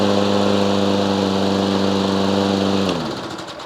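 A lawnmower engine hums steadily at a high, even pitch, close and loud, then winds down in its final second as it shuts off, with no voices.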